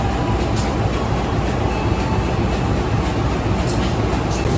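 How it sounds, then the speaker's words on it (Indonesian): A CC201 diesel locomotive couples to the local Walahar train cars at the station, with a loud, steady rumble and clatter of railway machinery filling the scene and no talking. "Tadi proses penyambungan lokomotif ke rangkaian kereta api lokal Walahar."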